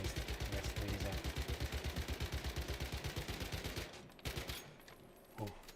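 SMG fire in the survival shooter Once Human, a long rapid automatic burst of close, loud, evenly spaced shots that stops near the end, followed by a few faint clatters.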